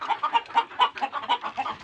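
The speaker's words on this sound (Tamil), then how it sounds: "கரு கலரில் ஒரு சேவல் இருக்குது" A black rooster in a large hen house gives a run of rapid, close clucks in a steady pulsing rhythm, loud and alone.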